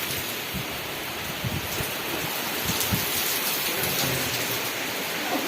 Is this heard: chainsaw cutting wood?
no